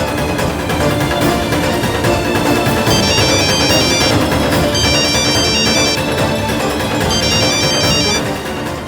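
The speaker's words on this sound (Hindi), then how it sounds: "फोन उठाओ दादी।" A phone rings in a dramatic TV scene, its repeating electronic tone pulsing at intervals, loud and steady against dense background music, with no voices.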